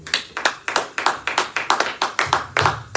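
A church congregation at an intercession worship service claps together in a steady, rhythmic beat, loud and close, with no one speaking over it.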